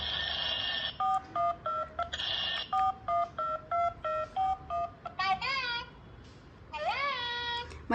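A toy phone's button tones, a quick run of about a dozen short, clean beeps of varying pitch, followed by two longer warbling electronic tones, loud and close.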